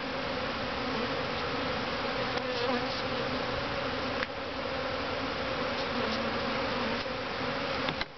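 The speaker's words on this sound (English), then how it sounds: "I've agitated these little guys enough, and I don't want to do it any more than I have to." Honey bees in an opened hive buzz in a dense, steady drone close by, a continuous agitated hum with occasional individual bees flying near, and no talking.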